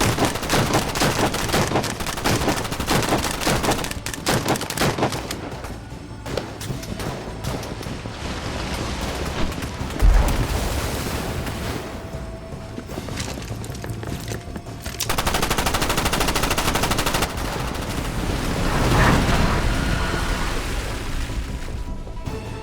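Sustained bursts of loud gunfire in an action sci-fi shark movie at sea, rapid rattling volleys continuing for most of the stretch with a heavy boom near the middle and surging noise later, no talk over it.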